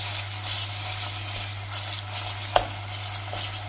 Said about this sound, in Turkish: Onu da içerisine ilave edip soğanla kıymayı pişireceğim.